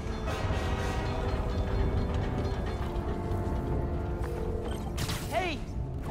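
A New York subway train in the Spider-Man: Miles Morales video game rumbles steadily close by with a dense mechanical roar, a few metallic clanks and a rising squeal near the end, while a person talks over it.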